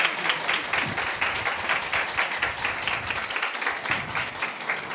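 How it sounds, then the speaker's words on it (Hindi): A graduation audience at a Bible college in Islamabad claps steadily and densely, a sustained round of applause from a sizable crowd filling the room without pause. "अब इन तमाम ग्रेजुएट्स के लिए आप भरपूर तालियां बजा सकते हैं"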